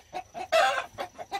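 A brooding hen on a rural Korean farm gives several short, close clucks, with one longer and louder call in the middle.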